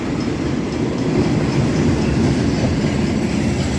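An old red rattler train passes at Dandenong station, a loud, continuous close rumble and clatter of wheels on track, with no voices over it.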